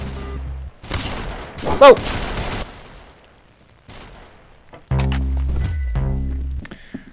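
AK rifle fire in the Roblox Arsenal video game: a short burst of shots, then a quieter stretch with a voice exclaiming, and a louder rapid string of rifle shots near the end.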